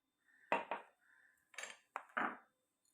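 Dry rice for homemade baby cereal pours into a bowl in several short, quiet bursts of rattling grains and light clinks, separated by brief pauses in an otherwise silent room.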